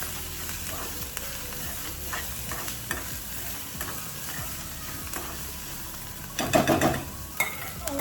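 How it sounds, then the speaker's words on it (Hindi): Chillies fry in medium-hot oil over a low flame for Rajasthani dal-bati, a steady soft sizzle broken by occasional stirring clinks, with a louder scraping burst near the end. "तो मैं आप डायरेक्ट मिर्च ही ऐड करूँगी।"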